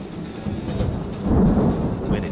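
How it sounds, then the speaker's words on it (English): A tropical thunderstorm during the monsoon season in Singapore, with steady rain and a deep rumble of thunder that swells partway through, loud and close, with no voices. "It's almost impossible to predict when a tropical storm will hit."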